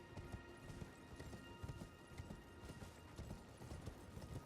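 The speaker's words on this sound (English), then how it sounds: "And we can ride our horse." Horse hooves clip-clop at a steady galloping rhythm in the video game Elden Ring, close and continuous over a busy game soundscape with faint ambient tones.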